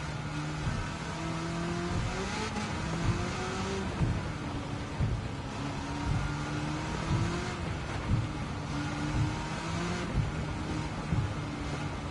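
A 90s JDM car engine in Gran Turismo 7 drones loudly and continuously, its pitch climbing and dropping through repeated gear changes under acceleration, with no talking.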